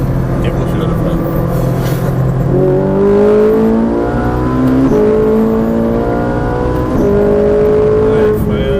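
A Ferrari 458 Italia engine on a race circuit pulls hard through the gears, its strong tone climbing in pitch, dropping at each shift, then rising again. The engine is loud and close, and a voice talks over it.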